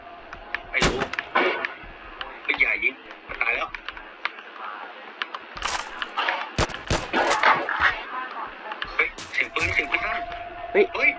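Scattered gunshots and sharp cracks from a Roblox bodycam-style shooter game, several loud isolated shots amid clicking, with people talking throughout.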